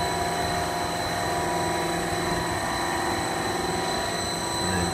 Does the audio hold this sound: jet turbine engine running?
yes